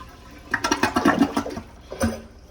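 A short toilet flush, a gurgling rush of water lasting about a second, followed by a brief second splash, heard close up in a quiet room.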